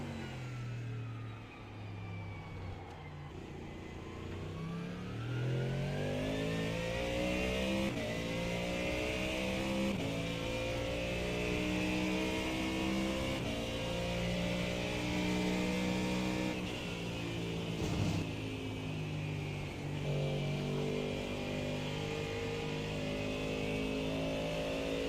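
A car engine revs hard through a fast lap on a race track, its pitch climbing and dropping with gear changes and corners, loud and continuous from close inside the car, with no talking.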